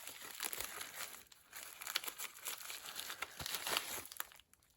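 A plastic packet crinkles and rustles after its top has been cut off, handled up close at a fairly low level in a continuous, uneven stream of crackling with no talk.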